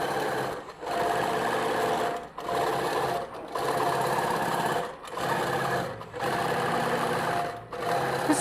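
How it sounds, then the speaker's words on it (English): A Moxie XL computerised quilting machine stitches a geometric design in a fast, steady whir, broken every second or so by short pauses as it shifts, loud and close throughout. "It's a very quiet machine, the Moxie XL, isn't it?"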